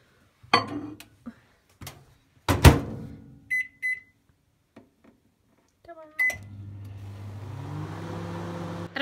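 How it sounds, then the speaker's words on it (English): A few clunks and clatters and a short run of electronic beeps, then a microwave oven starts and runs with a steady low hum. "I don't know if you're about to hear me over the microwave"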